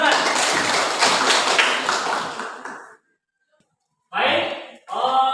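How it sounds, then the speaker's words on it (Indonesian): Students in a classroom clap together in a thick burst lasting about three seconds, which stops abruptly. After a short silence, a teacher's voice speaks. "Ya, tepuk tangan."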